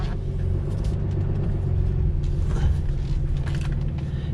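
A 2015 Ram 2500 Laramie with a Cummins diesel idles in a steady low rumble, heard from the cab alongside faint clicks and creaks of the controls.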